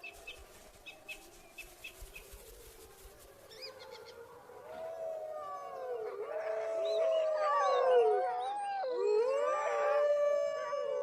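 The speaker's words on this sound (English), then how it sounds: "Wolves howl to establish the extent of each pack's territory and to avoid unnecessary conflict." Wolves howl in the wild, several long rising and falling voices overlapping into a loud chorus after quieter opening sounds.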